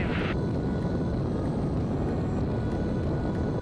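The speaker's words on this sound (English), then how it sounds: "Full throttle, everything is green. Rotates right at 50." A Piper Tomahawk light airplane's engine roars steadily at full throttle during the takeoff roll, loud and close from the cockpit, a constant propeller drone with a brief tone at the start.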